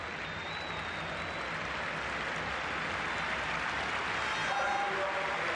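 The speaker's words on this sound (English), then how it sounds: "Wonderful applause for Gonzalo as he makes his exit" Large stadium crowd applauding steadily throughout as Argentine striker Gonzalo Higuaín leaves the pitch during a 2014 World Cup qualifier against Venezuela, a dense, continuous roar of clapping with no break.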